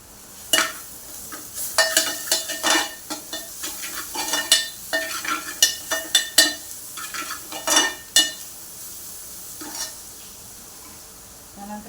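Onion frying in a pan with crushed chili, ginger, garlic and coriander, a spoon scraping and stirring in quick strokes over a steady sizzle, close and fairly loud with no voices.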